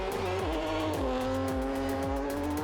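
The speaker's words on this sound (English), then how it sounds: "Petrol engine cars with 300 horsepower, 4-wheel drive, 4-wheel steer. Making a lot more noise clearly than the electric competitors." Mazda 3 ice racing car with a 300-horsepower petrol engine, four-wheel drive and four-wheel steer, competing in the Andros Trophy round in Andorra; the engine revs steadily with rising and falling tones and some tyre squeal, close and continuous.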